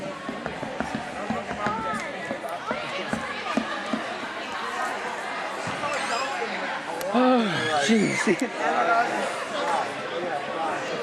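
A varsity basketball game crowd fills the gym with steady chatter, sneaker squeaks and shuffling, while a nearby voice speaks briefly over the hubbub.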